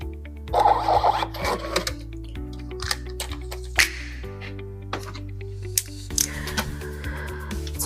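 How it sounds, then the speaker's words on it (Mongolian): Receipt-style printer running off a credit card payment report, with a string of short mechanical ticks and feed bursts plus a steady low hum, loud and close. "Төлбөрөө кредит картаар хийсэн хүмүүсийнхээ нийт тайланг нь хэвлэж гаргана"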